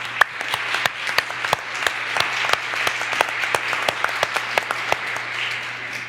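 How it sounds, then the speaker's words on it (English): An audience at a church annual meeting breaks into steady, dense applause, many hands clapping together loudly and close for several seconds without talk. "Can we give them a round of applause?"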